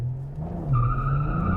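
A 2022 Cadillac CT4-V Blackwing accelerating hard in track mode, its engine note rising in pitch over a loud, close roar, with a tonal whine climbing in the second half.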